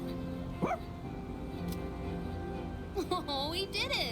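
A dog in the video game Persona 3 Reload gives a short yip, then a run of higher whining barks, over steady background music.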